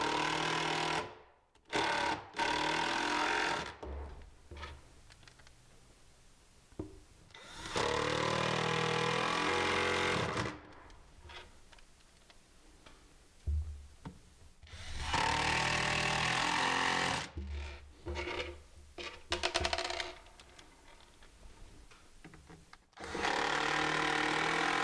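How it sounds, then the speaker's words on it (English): A power drill drives 1 1/8-inch screws into kitchen cabinets during installation: several loud, whining bursts of a few seconds each, separated by quieter stretches of handling noise. "I'm just going to pop these screws in, and again, these are 1 1/8" screws."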